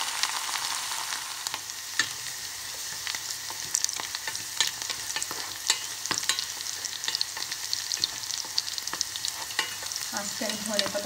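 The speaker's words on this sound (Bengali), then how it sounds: "তেলটা গরম হচ্ছে, হওয়ার পরে আমি এর ভিতরে এই যে কেটে রাখা পেঁয়াজ আর রসুন বাকি ওগুলো দিয়ে দেবো ভিতরে।" Chopped onion and garlic fry in hot oil for a dal tempering, giving a steady, close sizzle with scattered crackles and pops that lasts throughout, with no talking.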